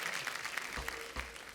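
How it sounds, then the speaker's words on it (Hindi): Studio audience on a Hindi comedy talk show clapping for arriving guests, an energetic, continuous round of applause from a large crowd, moderately quiet in level, with faint voices underneath. "पर एक बार जोरदार तालियां हो जाएं हमारे मेहमानों के लिए।"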